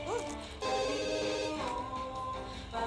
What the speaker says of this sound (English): Answer the phone, girl.